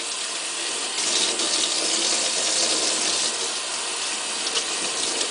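A steady, full stream of tap water runs and splashes into a sink while an ear of corn is rinsed beneath it, a continuous close gushing hiss with slight shifts in texture and no speech.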